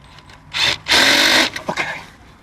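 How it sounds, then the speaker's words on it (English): A power drill tightening the chain clamp on an RV sewer hose fitting, two loud close bursts of motor whine, the second longer, followed by a few brief stuttering pulses. "Snug it up with the chain, with the drill."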